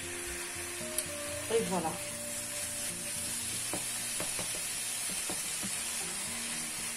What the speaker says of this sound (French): On va laisser notre mélange bien cuire.